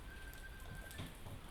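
Heavy typhoon rain hisses steadily as a faint, even wash of drops, with a few soft knocks near the end and no voices.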